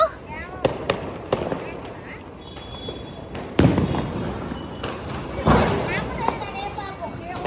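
Flower pot fireworks being lit at a Diwali celebration crackle and thump in bursts, with a few sharp bangs and a hissing spray, mixed with people's voices talking and calling nearby.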